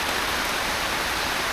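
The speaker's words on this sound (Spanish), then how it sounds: "Empezó a llover." Heavy tropical rain pours steadily outdoors, a dense, continuous hiss of drops drumming on surfaces, loud and close with no pauses and no voices over it.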